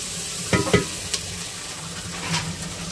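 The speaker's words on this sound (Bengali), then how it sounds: "পেঁয়াজের সাথে ভেজে নেওয়া হচ্ছে" Ground chilli, ginger, garlic and cumin paste fries with onions in oil for a rural jackfruit curry, a close, steady sizzle broken by a few sharp stirring scrapes early on and again near the end.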